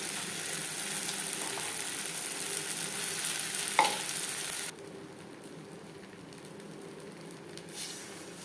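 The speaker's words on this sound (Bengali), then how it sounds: "পেঁয়াজের সাথে দানা বেশ ভালো করে মিক্স করে দেব।" Mashed jackfruit seed paste being mixed with onions in a hot pan, a low steady sizzle with soft stirring and scraping, one sharper clack partway through before the sound drops quieter.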